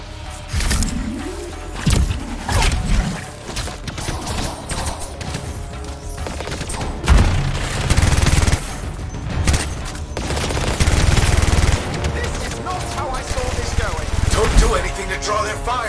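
Gunfire in the game Anthem during a fight around a Strider vehicle, with repeated shots and fusillades, crashes and booms across a busy battle mix, under frequent talk.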